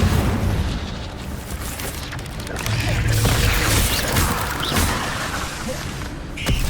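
Incendio fire spell cast in the video game Hogwarts Legacy: a loud, dense whooshing roar with booming bursts and crackling texture, sustained throughout without pause.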